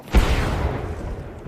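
A gunshot in the Apex Legends video game: one sharp, loud report near the start, trailing into a sustained rumbling wash of game noise with no voices.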